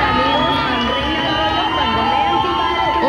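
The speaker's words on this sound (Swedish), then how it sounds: "Oj, vilket jubel för fröken Panama" A large audience at the Miss Universe 1996 pageant cheers and shouts loudly for Miss Panama, a dense sustained roar of many voices.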